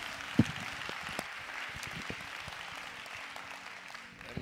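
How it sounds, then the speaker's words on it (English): A church congregation claps during a sermon service, with a burst of scattered hand claps and a steady murmur of applause in a large room, one loud clap standing out early. "Let's give the Lord a great big hand clap."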